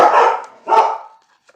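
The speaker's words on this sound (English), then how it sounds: "Dogs are really barky today." Dogs bark indoors, two loud, close barks about half a second apart, and then the room goes quiet.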